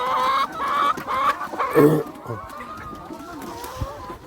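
Several hens cluck and squawk close by on an egg farm in Laos, with a burst of louder calls midway, then quieter scattered clucks over low background noise.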